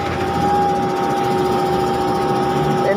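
The engine of a Schwing Stetter S36X concrete pump runs under remote control with a loud, constant droning hum and a steady tone, close and uninterrupted.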